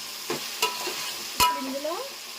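Mutton fat pieces frying in a pan give a steady close sizzling hiss, broken by a few sharp taps of a stirring utensil against the pan.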